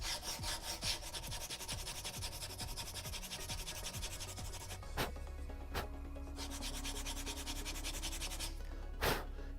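A Sabine Wren cosplay helmet is sanded by hand with 120 grit sandpaper, producing quiet, close, rhythmic rasping strokes, with a few sharp scrapes and knocks along the way.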